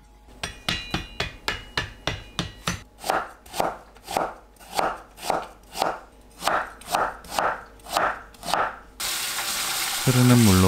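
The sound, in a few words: julienning sweet potatoes with a knife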